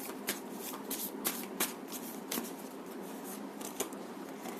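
Tarot cards being shuffled by hand, a continuous papery riffle with sharp snapping peaks roughly every half second, close and steady with no talk.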